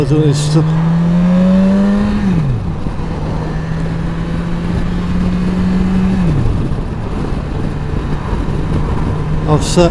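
A BMW S1000XR motorcycle engine runs steadily close by, a loud droning hum that rises and falls twice as the revs change, with wind noise around it.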